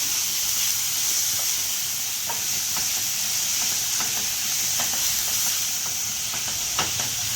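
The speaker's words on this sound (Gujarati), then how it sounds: "એની અંદર આપણે ટમેટા ને ડુંગળી ઝીણું સમારેલું છે ને એ નાખી દઈશું. બધું મિક્સ કરી દઈશું." Finely chopped tomato and onion sizzle and steam in a hot pan on full flame, a steady loud hiss broken by scattered scraping stirs of a spoon, with no one talking.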